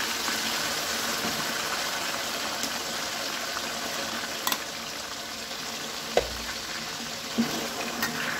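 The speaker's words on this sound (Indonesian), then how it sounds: "sekarang kita akan menggoreng kacangnya yang tadi sudah ditiriskan" Peeled peanuts frying in hot oil, a steady, dense sizzle with occasional stirring clinks and taps, moderately close and without talk.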